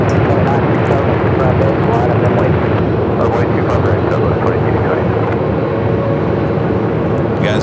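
A Southwest Airlines Boeing 737 MAX 8, inbound from Ontario, California, lands on runway 25 left at Phoenix Sky Harbor with a loud, steady, broadband jet roar that fills the whole stretch. A voice talks over it.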